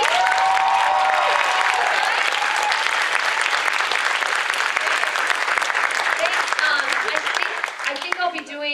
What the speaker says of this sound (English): one more round of applause for Lauren Lopez